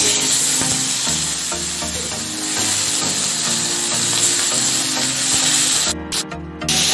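Marinated fried chicken chunks with capsicum, onion and tomato are tossed in a pan over a high flame for chilli chicken, giving a steady loud sizzle with scraping stir strokes throughout and a brief break near the end.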